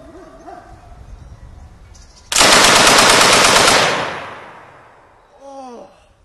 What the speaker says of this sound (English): we're going to cock it, we're going to shoot it a little bit.